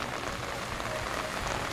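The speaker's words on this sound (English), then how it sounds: "It's raining as hell, man." Heavy rain falls in a steady, dense wash of hiss on a rainy day trip to Doi Inthanon, close and continuous with no breaks.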